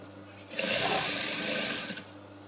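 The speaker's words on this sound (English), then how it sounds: "I'm not stretching. I'm just top stitching. And I make sure I sew at the edge of my" A sewing machine runs close and steadily for about one and a half seconds, top stitching bias binding along a neckline, with a low hum before and after it.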